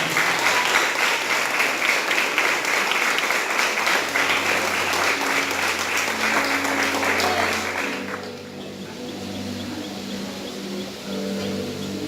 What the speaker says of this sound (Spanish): ¿Quién le puede dar un aplauso al Señor?